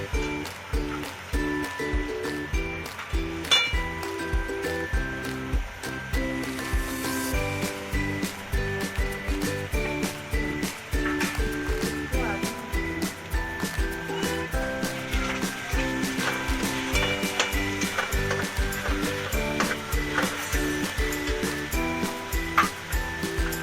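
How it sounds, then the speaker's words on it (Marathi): Chopped onion sizzles and crackles in hot oil in a pan as it is stirred and sautéed for pav bhaji, a steady busy frying hiss with rhythmic clatter from the spatula throughout. "आता तेलामध्ये कांदा टाकला आहे आणि चांगलं परतून घ्यायचं आहे"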